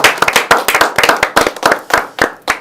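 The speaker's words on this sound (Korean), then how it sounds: "다 같이 박수로 힘찬 박수로 한번 시작하겠습니다." A studio group claps in unison on a political broadcast, sharp rhythmic hand claps in a steady repeated beat, loud and close with no talking.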